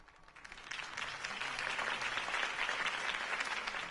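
Crowd applause follows a campaign speech in the Batman Telltale video game, a dense clapping roar that swells quickly and holds steady and fairly loud throughout.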